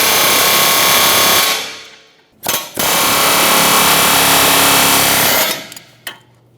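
An air hammer rattles on a Subaru Outback steering knuckle in long, loud bursts up close, stopping briefly between runs, with short taps at the end.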